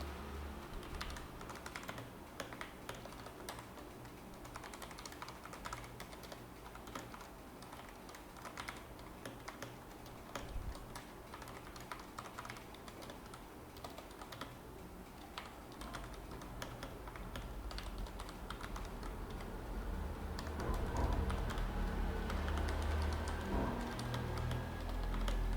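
Code is typed on a computer keyboard in a steady, fast stream of soft key clicks, close and fairly quiet, continuing throughout with a low background hum.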